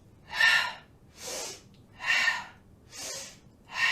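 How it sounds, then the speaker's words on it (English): Slow, deliberate breaths during a live-streamed yoga class for the lower back, four to five audible inhales and exhales alternating in a steady rhythm, close and fairly soft with no talking. "Let's get a little more intentional with the breath. So inhale, exhale."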